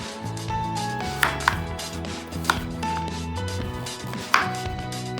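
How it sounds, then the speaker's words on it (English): A knife chops raw pumpkin into cubes on a cutting board, several sharp, separate knocks spaced irregularly over quiet background music, with no voices. "Now chop it into cubes for the blender or food processor."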